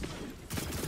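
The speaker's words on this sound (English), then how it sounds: "That was a fusion rifle." Fusion rifle discharge in a first-person shooter match, a dense burst of energy-weapon fire that swells midway and continues loud to the end, close and without speech.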